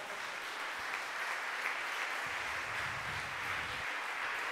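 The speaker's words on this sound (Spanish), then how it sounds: "Y los que aplauden son esos ahora." An audience applauds in a legislative hall during a philosophy talk, continuous and fairly distant clapping filling the whole stretch at an even level.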